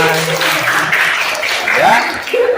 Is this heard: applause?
yes